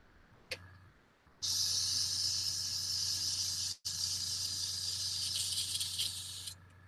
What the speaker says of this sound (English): I'll go ahead and run these color out of the airbrush while that's doing its drying